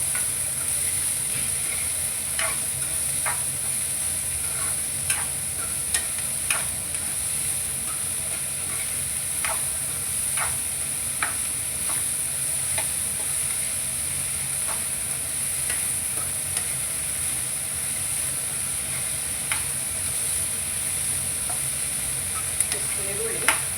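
Onions sizzle steadily in a hot pan for a traditional Karnataka stir-fry, with occasional soft scrapes and taps of a spoon stirring them, a constant close frying hiss throughout and no talking.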